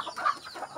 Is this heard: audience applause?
no